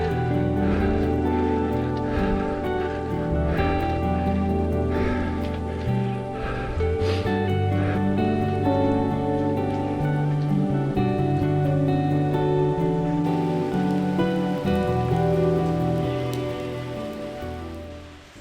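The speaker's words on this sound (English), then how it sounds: "It's raining." Steady rain pattering on a surface, continuous and fairly loud, with a tonal musical hum running underneath.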